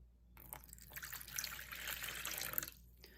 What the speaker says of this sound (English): The first thing we're gonna do is pour in our water.